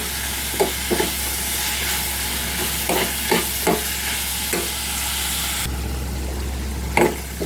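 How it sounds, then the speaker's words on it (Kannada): Tomatoes with turmeric powder frying in a pan, a steady loud sizzle with intermittent scraping stirs, no talking. "ಅರಿಶಿನ ಪುಡಿ ಸೇರಿಸಿ ಈಗ ಟೊಮೊಟೊ ಬಾಡುವವರೆಗೂ ಫ್ರೈ ಮಾಡಿ."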